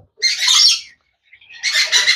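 A colourful, hand-tame pet parrot squawks twice at Mirpur 1 bird market, two loud harsh bursts close by with a short silent gap between them.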